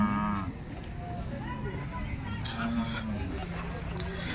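An HF (Holstein Friesian) cow at a cattle market in Loni moos in a drawn-out low call, followed by further lowing amid farmyard noise and people talking nearby.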